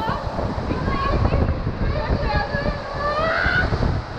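Water rushes and splashes on a flooded ride at the Rulantica indoor water park, a continuous loud, broadband roar with people talking and exclaiming over it.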